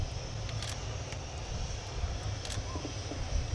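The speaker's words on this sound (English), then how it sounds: "Colonel Stancu Georga at the controls of the Romanian Air Force Mig-21 LanceR C" A Romanian Air Force MiG-21 LanceR C jet flies its display at the RIAT 2019 air show, heard as a faint, steady, distant engine roar with a couple of brief clicks over it.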